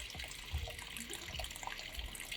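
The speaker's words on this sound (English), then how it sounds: "This is also the water heater that we're emptying as well because we need to have everything empty." Water drains out of a camper van's water heater as a steady, broad splashing hiss that stays even and unbroken, fairly faint, with no talking.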